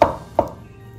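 A knife chops through marinated champignon mushrooms on a board, two crisp close cuts about half a second apart, with no talking.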